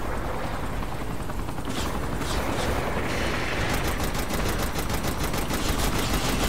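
Helicopter rotor whir and rapid bursts of gunfire fill the scene in the video game Saints Row: The Third, dense and continuous with a rhythmic rotor chop, no talking.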